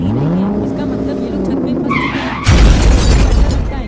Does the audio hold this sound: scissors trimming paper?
no